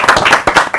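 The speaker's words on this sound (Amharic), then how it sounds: "እስቲ በደንብ አድርጋችሁ አጨብጭቡላችሁ።" An audience claps for the participants of a parents-and-children competition at a Meskel festival celebration in Wolaita, with dense bursts of hand claps that swell and dip over a brief moment.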